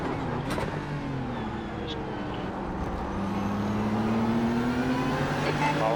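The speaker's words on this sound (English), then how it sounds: "Car on your left." A prototype-class race car in an iRacing IMSA sim race draws alongside on the left, its engine note climbing and revving loudly and continuously over the player's own car.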